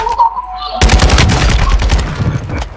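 Video game gunfire: after a brief quiet moment, a loud, rapid automatic burst of close shots rattles on for about two seconds.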